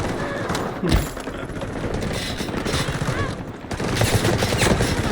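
MP7 submachine gun fire in the video game Delta Force, rapid bursts of automatic shots crackling almost continuously with other gunfire in the background.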